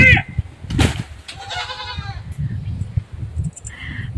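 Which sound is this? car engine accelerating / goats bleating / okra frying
goats bleating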